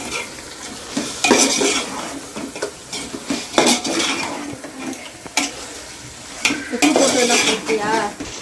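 Masala for chicken biryani sautéed in a pan, a spoon scraping and clinking against the metal in irregular strokes over a soft sizzle, close and fairly loud.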